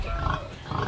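Pigs at farrowing, a sow with newborn piglets, grunting softly in short low bursts that come and go against steady barn noise, close by, with no voices.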